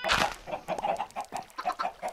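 Minecraft chickens cluck in a quick, uneven series of short calls, several birds overlapping at a moderate, close distance with no talk over them.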